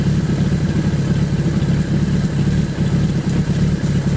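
A Suzuki GS1000 motorcycle engine idles at low RPM, a loud, steady, close burble with an even low throb and no talk over it.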